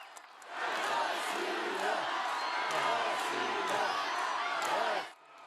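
A large crowd on Red Square in Moscow cheers and claps for Putin at a Crimea annexation anniversary rally, a loud sustained roar with whoops rising about half a second in and cutting off near the end.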